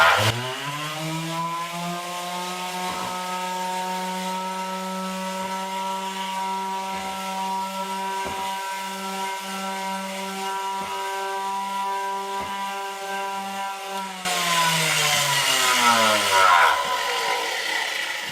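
A power sander with a worn sanding pad hums with a steady, buzzing motor whine close by, running continuously before getting louder and rougher near the end.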